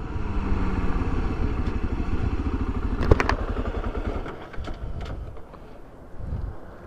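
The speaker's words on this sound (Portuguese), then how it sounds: "A moto estancou porque eu não reduzi as marchas." A Honda XRE300 motorcycle engine rumbles in rapid pulses up close with wind buffeting the microphone, then sputters and dies out as the bike stalls on a hill climb.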